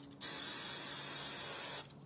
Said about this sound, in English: I'm just going to put a little bit of contact spray.